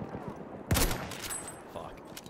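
Gunfire in the video game Battlefield 1, a sharp close shot burst with a brief rattling tail over low background game noise, followed by a couple of fainter distant pops.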